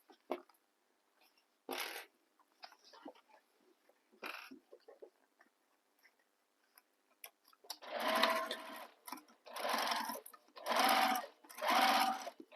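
A sewing machine stitches a bag base to its main panel, starting with a few short scattered bursts, then running in four sustained whirring passes with brief pauses between, close and fairly loud.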